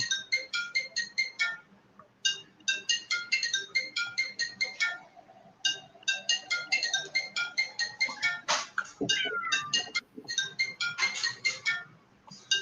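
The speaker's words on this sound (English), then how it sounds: "Phone's ringing." A phone rings during a home live stream: a repeated chirping electronic ring in regular bursts with short pauses, moderately loud and clear, with faint background noise between rings.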